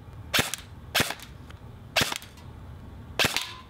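Four sharp airsoft gun shots fired at a distant orange can, spaced roughly evenly apart, each a crisp snap with a short tail, standing alone over quiet outdoor background.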